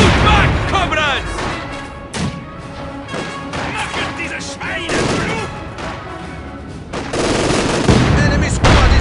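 Machine gun fire in the Company of Heroes Stalingrad battle, dense bursts of automatic gunfire mixed with explosions and battle noise, with voices shouting over it throughout.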